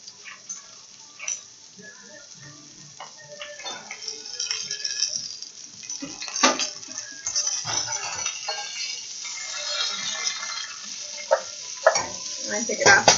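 Vegetables sizzle and fry in hot oil in a pan for a broken linguini risotto with beef, a steady crackling hiss broken by utensil ticks and rattles, with some talk underneath.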